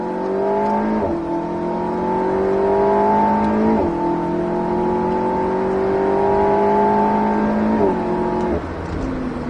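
An Alpine A110S engine runs at full throttle on the Circuit du Var track, rising in a strong, loud climbing whine through several gears, with brief dips at each upshift and no talk over it.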